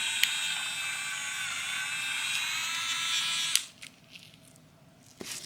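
A small paddle mixer whirs steadily as it stirs colored resin for a marbled planter bowl, a continuous high buzz that cuts off abruptly partway through, leaving near silence with a faint click.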